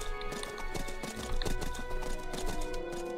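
Horse hooves clip-clop in a steady rhythmic gait in the video game Horse Riding Tales, close and continuous over a background music bed.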